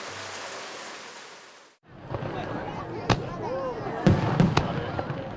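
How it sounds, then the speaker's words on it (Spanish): Summer fireworks at the Nagara River festival crack and boom in a rapid series of sharp bursts, each followed by crackling and rumble, with voices in the background. "En verano, el cielo nocturno está iluminado por gigantes flores de fuegos artificiales."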